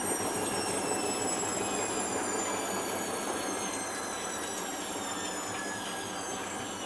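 A Philips Elite Series 90 AWB949 washing machine begins a colourfast cotton 60°C cycle, its motor giving a steady, continuous whine with faint rising tones over a constant hum, close and alone.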